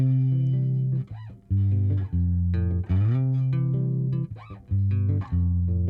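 A bass guitar plays a groove of sustained low notes with slides and short breaks, moderately loud and alone, with no voices.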